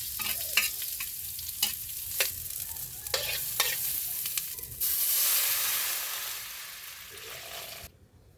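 Onions are added to hot cooking oil in a pan for sardine udon, with scattered clinks and scraping of stirring before a steady loud sizzle and hiss that breaks off abruptly near the end.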